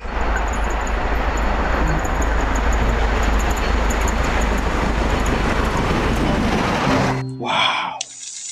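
A steady, loud rumbling roar of a passing steam train fills most of the clip, then cuts off abruptly into quieter sounds near the end.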